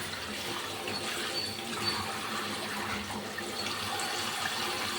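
Tap water runs steadily and fairly loudly in a home kitchen sink while sirukeerai greens are washed, a constant splashing flow with no talk.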